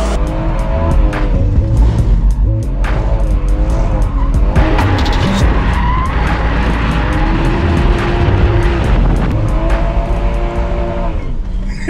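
A BMW M140i driven hard around a race circuit, engine roaring through repeated rising and falling revs with gear changes and bursts of tire squeal, loud and close for the whole stretch.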